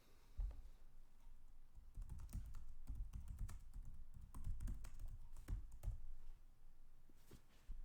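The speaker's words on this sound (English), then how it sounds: "I'm gonna try typing because I don't know if you can hear me." Quiet, fast typing on a computer keyboard, a steady stream of close soft key taps lasting several seconds with brief pauses and no talking.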